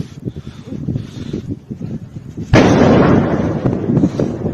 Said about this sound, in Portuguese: Olha só, uma explosão realmente muito grande.